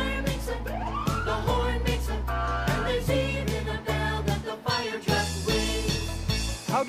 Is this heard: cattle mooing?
no